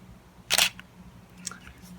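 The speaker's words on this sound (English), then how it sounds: "Wow, that's a neat shutter sound." Canon Rebel T5i (700D) DSLR shutter firing once, a sharp, close, loud mechanical snap followed by a fainter click moments later, over a quiet background hum.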